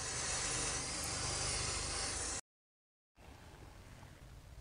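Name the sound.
spraying brake cleaner on Porsche Macan brake parts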